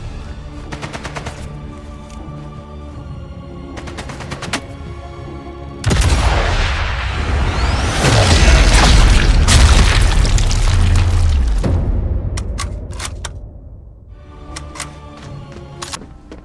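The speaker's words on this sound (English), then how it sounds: "Flak cannon." A flak cannon fires amid heavy explosions in the World War II game Sniper Elite: Resistance, a sustained loud barrage of booms and rumbling blasts in the middle, with sharper intermittent reports before and after.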